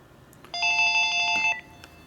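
A telephone rings with an incoming call in a workshop where a 1942 Harley-Davidson WLA flathead motorcycle is being rebuilt, giving one clear electronic ring burst of about a second against quiet background noise.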